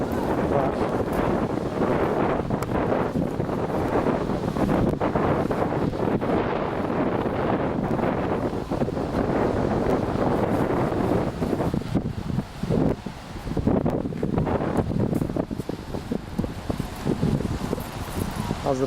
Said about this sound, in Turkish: Rüzgar yeterince var.